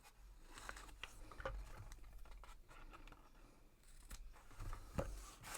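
Scissors snipping small paper pieces for a handmade favor box, quiet close crisp cuts in irregular bursts with soft handling rustle between them.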